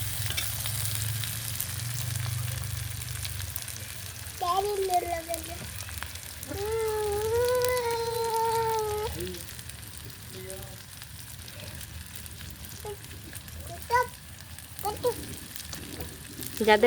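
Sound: salted hilsa fish frying on a clay stove

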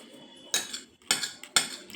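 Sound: spoon clinking against plate while eating

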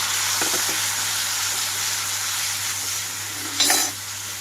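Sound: tomatoes frying in oil

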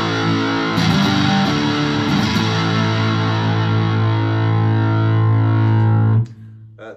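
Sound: Squier Classic Vibe 50s Stratocaster through Roland JC40 amp, distortion

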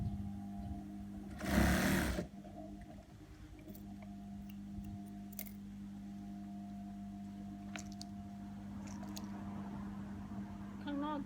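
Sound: sewing machine stitching a trouser waistband

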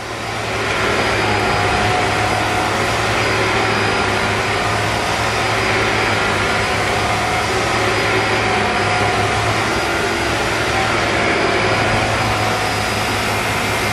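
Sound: vacuum cleaner running at maximum suction

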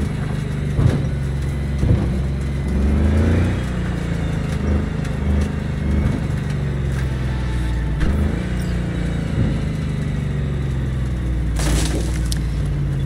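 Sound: car driving in the video game Cyberpunk 2077

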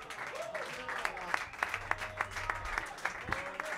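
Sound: audience applause at jazz concert

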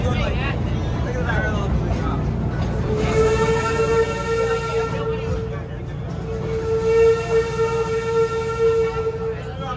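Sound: Busch Gardens Williamsburg railway train running

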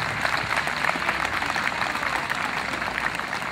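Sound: audience applause after a performance

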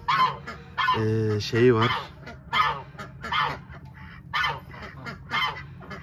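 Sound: geese honking

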